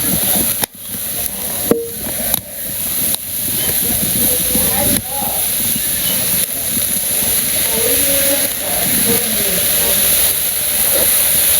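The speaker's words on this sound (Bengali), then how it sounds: "যে শাক ভাজানো কড়াইতে দিয়ে দেই।" Steady hissing sizzle of greens frying in a wok, with occasional clanks of a utensil and a voice talking over it.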